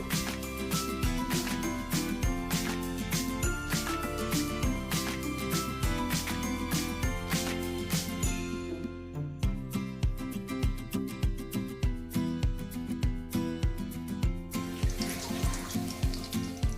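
Small shrimp fritters dropped into hot mustard oil, a dense continuous sizzle and bubbling with rapid crackling, close and steady, briefly changing tone midway as more batter goes in, no talk.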